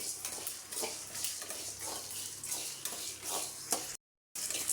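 Sprouted grains dry-roasting in a pan, a series of rhythmic scraping stirs with a soft crackle beneath, close and moderately loud, briefly cut to silence near the end.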